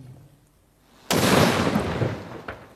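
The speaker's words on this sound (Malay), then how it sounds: "Tembakan meriam sebanyak 21 das dilepaskan sebagai menandakan kedatangan awal tahun Hijrah." A cannon from a 21-gun salute marking the Hijri new year fires once with a sudden loud boom that rumbles and decays over a couple of seconds, then a fainter report follows.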